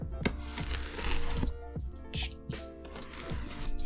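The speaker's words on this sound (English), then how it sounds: "So let's get the knife out, cut this plastic." A knife slicing through plastic wrap on an EVGA box: several short crackling, tearing strokes close by, with rustling plastic between them.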